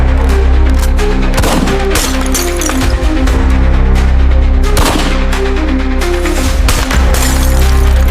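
Gunfire in an animated retelling of the battle of Surabaya: loud, dense bursts and repeated shots over a constant heavy rumble, with no talking.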